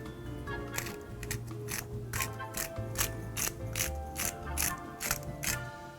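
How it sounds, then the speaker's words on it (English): A McCormick pepper grinder cracks pepper onto a turkey burger, giving a steady run of dry ratcheting crunches about twice a second, close and moderately loud, with a low tonal hum underneath. "Then go for a little cracked pepper."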